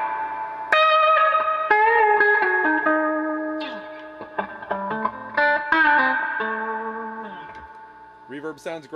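Electric guitar notes and chords ring out through a repaired Dr Z Maz 38 Senior amplifier with a splashy, drawn-out spring reverb tail, no squealing or feedback, fading away at the end.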